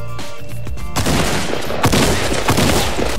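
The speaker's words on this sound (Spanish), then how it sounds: "Ya se escuchan los disparos" Gunfire in the Fortnite Battle Royale video game: a loud, dense volley of rapid shots bursts in after a quieter start and carries on as sustained, crackling fire close at hand.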